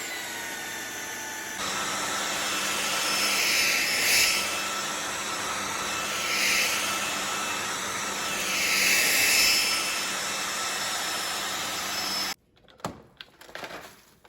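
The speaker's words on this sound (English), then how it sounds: "if I push this speed button one more time, then it rapidly increases the suction on the machine" Vactidy Blitz V9 cordless stick vacuum running at increased suction, a steady high motor whine with a whooshing roar that swells and eases twice, then cuts off, followed by a few clicks and bumps.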